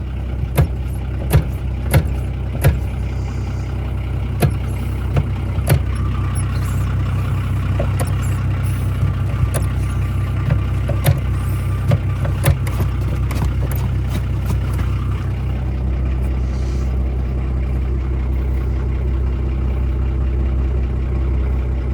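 A 1981 Datsun MQ Patrol SD33 four-speed diesel engine runs with a loud, steady low rumble, a few sharp clanks early on, then settles into continuous idling.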